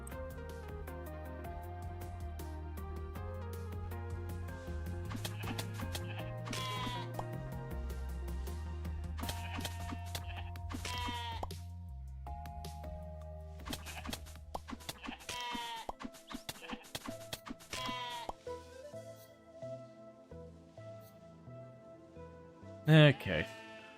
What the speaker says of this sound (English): Where did the sheep go?